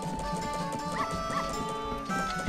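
Game dog in The Legend of Zelda: Majora's Mask, its short barks and yips surfacing a few times over steady game music, with no talk.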